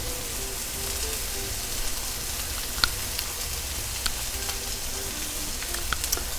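A rack of lamb sizzles steadily in its own melting fat over the heat, a continuous soft crackle with scattered sharper pops and no voices.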